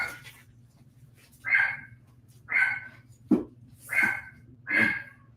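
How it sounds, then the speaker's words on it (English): A dog barks in a room, four or five muffled, evenly spaced woofs with a soft breath or sneeze between them, heard over a low steady hum. "Dog's barking."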